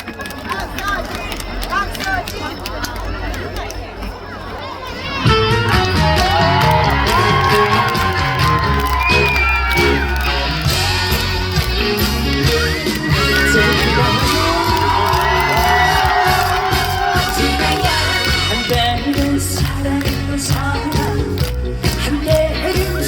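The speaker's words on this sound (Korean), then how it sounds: "뜨거운 박수로 환영해 주십시오" A large festival concert crowd in Gyeongju, South Korea, welcoming a trot singer, cheers and claps loudly, rising suddenly after a moment of quieter chatter, with whoops and shouts throughout.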